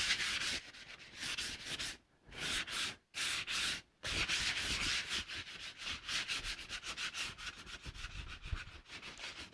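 Sandpaper rubbed by hand over a painted wooden laundry sign being distressed, a steady run of close, raspy back-and-forth strokes with a few short pauses early on.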